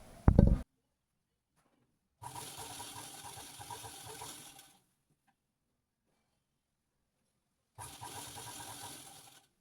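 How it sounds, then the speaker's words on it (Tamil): A sewing machine stitches the side opening of a churidar, running in two steady bursts of a few seconds each with a whirring, rattling motor hum, close and alone, separated by silence and preceded by a sharp knock. "இப்போ வந்து திரும்பவும் டபுள் ஃபோல்டு பண்ணி அப்படியே ஒரு தையல் போட்டுக்கோங்க."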